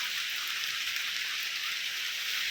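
Steady rain falls continuously, a dense even hiss of drops on surfaces throughout, with no voices.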